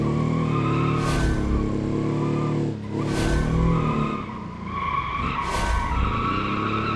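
Tires of a little 50-horsepower old Italian Autobello Piccolina, rear-wheel drive, screech and skid as it spins in BeamNG, a steady loud engine drone with three sharp rising squeal bursts spread through it.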